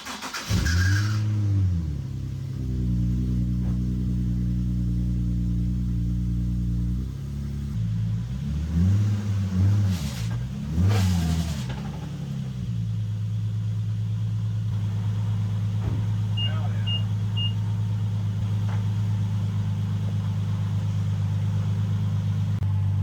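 A lowered car being driven slowly onto low homemade ramps, its engine idling and revving in rumbling surges, near and steady, with no talk.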